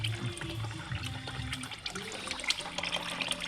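Coolant trickling and dribbling out of a failed LS V8 engine, an uneven splashing liquid stream heard up close and fairly faint.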